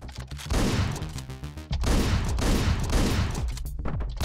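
Rapid bursts of gunfire from the Hotline Miami video game, dense and loud in two long volleys separated by a short break, with no talk over them.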